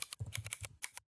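Quick, light keystrokes on a computer keyboard, a short burst of about a dozen clicks tapped at a steady pace, close up and quiet.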